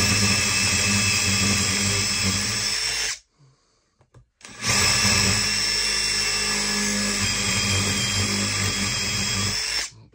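A loud, steady impact driver whir with heavy hammering grind, drilling with a masonry impact bit, runs for about three seconds, cuts out briefly, then resumes and drills continuously to the end.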